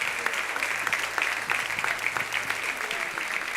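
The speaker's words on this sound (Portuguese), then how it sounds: "Você pode aplaudir ao Senhor pela família linda," A church congregation applauds during a Sunday celebration service, steady dense clapping filling the room at moderate loudness with no pause, with a faint low hum beneath.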